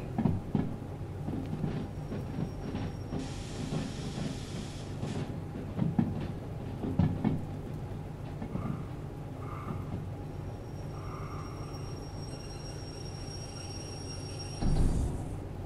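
A train locomotive in a video game (Derail Valley) rumbles steadily with a deep, continuous drone, with occasional hisses and clanks over the running noise.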